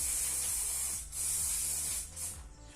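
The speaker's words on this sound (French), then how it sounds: "Donc j'appuie très peu sur ma bombe et ça crache." A spray paint can, pressed only lightly, sputters paint through a stencil in close, loud hissing bursts with two brief breaks between sprays.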